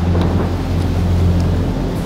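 Storm at sea in an animated Bible series: a dense, unbroken roar of wind and rumbling thunder with churning water around a boat, loud and steady throughout with no voices.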